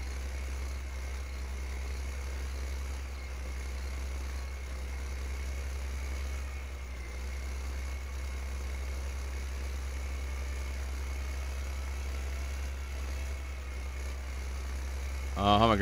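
A tractor engine in Farming Simulator 15 drones at a steady low rumble throughout, constant and unchanging, with a brief louder rattle right at the end.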